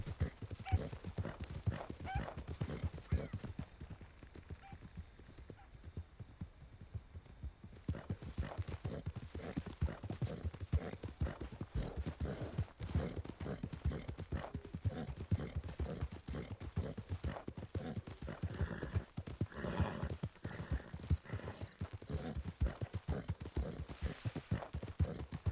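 Steady clip-clop of horse hooves from a Wild West video game, a continuous trotting rhythm of sharp close hoof strikes running throughout at an even loudness, with a brief quieter stretch early on.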